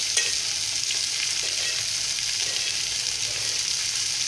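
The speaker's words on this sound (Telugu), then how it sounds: "ఇలా వేయించుకుంటే ఫిష్ చాలా బాగుంటుందండి." Fish fries in oil in a pan, a loud, dense, continuous hiss of sizzling with small crackles and pops throughout and no voices.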